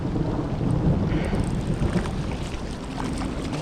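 Steady rain with low rumbling thunder during a Vermont thunderstorm, heard on the water while fishing. The wash of sound is constant and fairly loud, with no voices.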